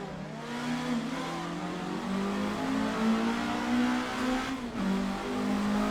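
A GT-R engine revving hard in the Assetto Corsa racing game, its steady rising drone climbing through the revs. A brief dip and recovery near the end sounds like a gear change. No one speaks.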